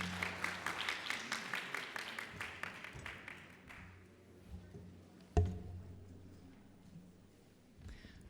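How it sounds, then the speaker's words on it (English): Audience at a medical symposium applauding, a few seconds of rhythmic clapping that fades into room quiet, followed by a sharp bump near the microphone. "Please give her a round of applause."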